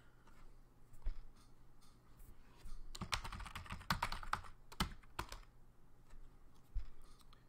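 Quiet computer keyboard typing, with scattered keystrokes and a denser cluster of quick clicks in the middle over a low background hum.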